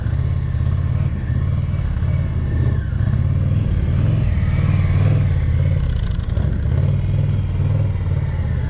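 An Indian Challenger motorcycle works through a slow-speed riding course, its big engine holding a steady, close, loud rumble with small throttle surges and some clatter for the whole stretch.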